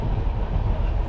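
The Rupasi Bangla Express, hauled by an electric locomotive at about 130 km/h between Santragachi and Purulia, gives a continuous low rumble and roar heard from inside, steady with no talking.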